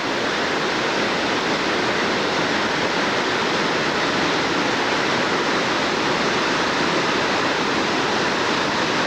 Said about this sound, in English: so we can hear the waterfalls in the background